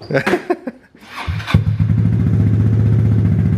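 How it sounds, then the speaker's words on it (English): A Yamaha Zuma mini bike cold-starts after a few clicks and clunks, then settles into a loud, close, steady putt-putting idle that runs to the end. "Here we go, startup video for her."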